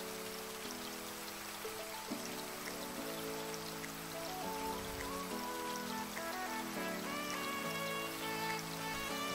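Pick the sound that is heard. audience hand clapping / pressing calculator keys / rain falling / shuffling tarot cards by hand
rain falling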